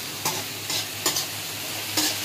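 Fried rice vegetables frying in pure ghee in a pan, a steady close sizzle punctuated by four sharp scraping stir strokes of a spatula at roughly even intervals.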